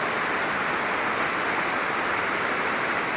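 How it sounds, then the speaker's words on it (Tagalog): Heavy rain pours down at a house where painting work has stopped, a dense, steady roar of broadband hiss with no breaks, heard from indoors and with no voices. "Habang malakas pa ang ulan, dito muna kami sa loob"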